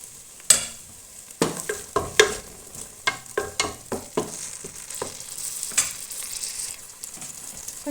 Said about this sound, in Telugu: అల్లం వెల్లుల్లి పేస్ట్ కూడా 1 నిమిషం ఫ్రై అయిన తర్వాత